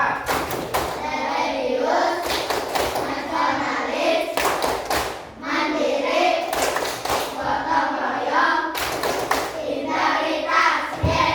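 Children clap out the tepuk PPK, a rhythmic group clapping chant, in a school setting, with bursts of hand claps in repeated patterns over chanting voices.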